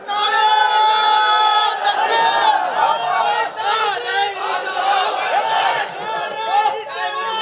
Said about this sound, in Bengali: তাকবীর লাগাও একটা।